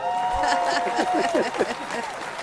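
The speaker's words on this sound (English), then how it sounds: "we can give him a clap" A small studio audience claps for a caller joining a live TV talk show, a brief patter of hand claps with some voices under it.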